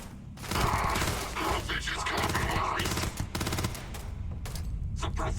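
Sustained rapid gunfire in the space game Starfield, dense bursts of automatic shots with brief gaps, loud and close throughout.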